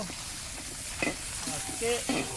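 Garlic and onion hit a hot pan for mango chicken cooked outdoors in an orchard, a close, steady sizzle punctuated by a few stirring scrapes.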